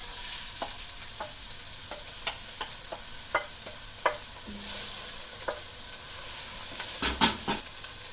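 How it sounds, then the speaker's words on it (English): Onions and shallot frying in hot oil in a soup pot, a steady close sizzle with regular scraping stirs from a spoon and a brief low hum midway, louder clattering near the end. "Okay, the oil's nice and hot. I'm going to add the onions and shallot."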